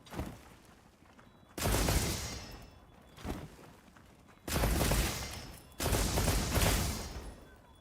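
Rapid-fire weapon shooting in the video game Monster Hunter Wilds: three loud, dense bursts of sustained gunfire, the last two nearly back to back, with quieter game ambience between them.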